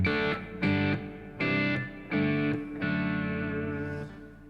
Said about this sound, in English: I switched the hall reverb to the plate right now